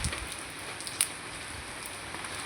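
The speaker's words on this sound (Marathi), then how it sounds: "आणि रात्रीचे 1 वाजलेले आहे आणि पाऊस पण भरपूर पडतोय" Heavy rain at night pours in a steady, even hiss of drops striking surfaces, with a single sharper drip or tap standing out midway, no voices present.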